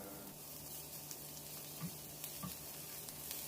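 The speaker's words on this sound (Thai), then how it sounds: "น้ำมันร้อนใส่กระเทียมสับลงไปสามช้อนโต๊ะครับ" Chopped garlic frying in hot vegetable oil for shrimp and Chinese sausage fried rice, a steady close sizzle with light crackle and a couple of soft stirring taps.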